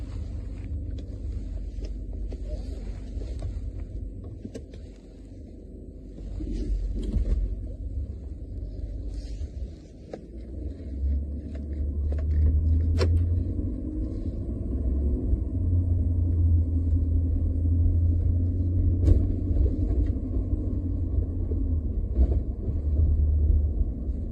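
A vehicle engine idles in drive with a fuel-management disabler module fitted, a continuous low rumble that deepens and grows steadier after the shift, with faint scattered clicks and no talking.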